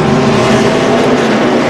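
NASCAR race cars roar loudly leaving pit road at the 2007 Dodge Dealers 400, a dense, sustained engine drone filling the whole moment with no break.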